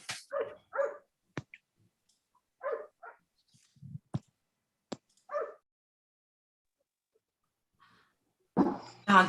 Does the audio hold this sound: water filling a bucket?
no